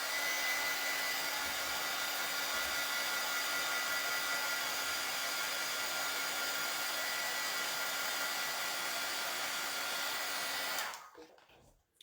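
A hair dryer blows steadily on a craft project, a loud, even whir that holds for about eleven seconds before switching off and winding down.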